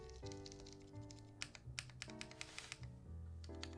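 Keys clack on a rose gold Kyuu custom mechanical keyboard, a run of crisp, fairly quiet keystrokes in an uneven burst of typing over a steady tonal background.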